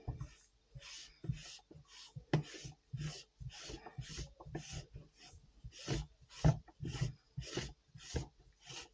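A telescope lens cell being screwed back onto its thread, giving repeated short scraping, rubbing strokes in a steady rhythm, close and fairly quiet, with no talking.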